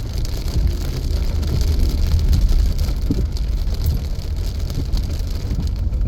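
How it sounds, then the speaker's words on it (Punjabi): Steady rain falling outdoors in a rural area with trees, a continuous dense hiss of drops with a low rumbling undertone, loud and unbroken throughout. "ਕਣੀਆਂ ਦੀ ਆਵਾਜ਼ ਘਟ ਜਾਂਦੀ"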